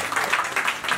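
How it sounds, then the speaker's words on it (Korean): Audience applause fills a small Korean pub during a live Romantic Punch concert in Yeonnam-dong, steady dense clapping sustained at moderate loudness throughout the brief moment. "이제 박수 한번 주세요"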